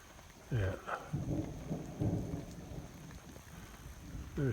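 Thunder rumbles low and distant during a rainstorm near a house and garden, under soft rain noise, with a few brief faint vocal sounds nearby.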